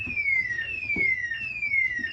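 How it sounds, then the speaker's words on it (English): A school alarm sounds during an assembly: a loud electronic tone sweeping downward in repeated cycles about every 0.6 seconds, steady and piercing over faint room noise. "we've set the alarm off"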